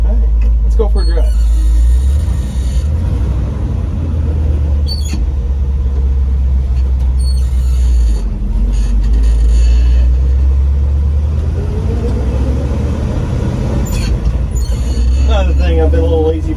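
A 1970 Chevrolet C20 pickup truck on the road, with a steady, loud low engine and road rumble from inside the cab that continues without a break, plus light rattles and a voice speaking over it.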